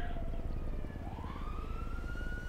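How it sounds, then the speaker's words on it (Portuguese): A police siren in GTA 5, wailing up and down in pitch over a low rumbling engine bed, fairly distant and steady throughout with no talk. "Tô vendo sirene aqui em cima, mano."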